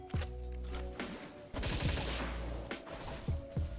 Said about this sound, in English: this assault rifle